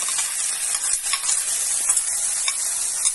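Raw plantain pieces hit a hot pan for a Kerala stir-fry and sizzle steadily, a bright continuous frying hiss with small crackles and occasional stirring scrapes, close and fairly loud with no talk.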